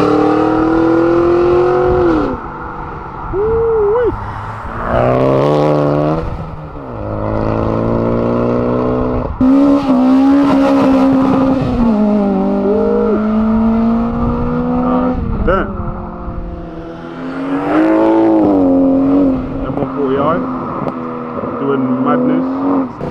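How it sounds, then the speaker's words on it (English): An American cup race car leaving a Silverstone track day passes loudly, its engine revving and shifting in rising, falling pulls that swell and fade over about twenty seconds, with people talking throughout. "Got a nice cup, American cup car coming through."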